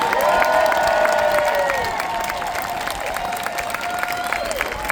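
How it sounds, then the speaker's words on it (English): A crowd at an outdoor No Kings protest rally in Smyrna, Georgia applauds and cheers for the organizers and volunteers, a broad wash of clapping with a sustained tonal whine running over it early on before fading. "let's give a huge round of applause to all of the organizers and volunteers"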